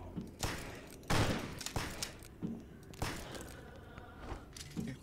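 Gunfire in the dark horror shooter Gloomwood, several heavy gunshots spaced about a second apart, close and booming, with quiet game ambience between them and no talk.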